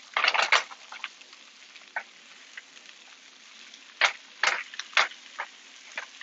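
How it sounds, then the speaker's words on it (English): Spinach frying in a pan with onions and garlic, a steady soft sizzle broken by bursts of crackle and stirring scrapes, close-up and moderately quiet with no talk. "we got our spinach going with our onions and our garlic"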